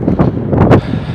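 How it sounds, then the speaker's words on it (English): Wind buffeting a microphone outdoors at a skateboarding spot, loud low rumbling gusts in a few bursts over about a second, with no voices. "It is a bit windy today"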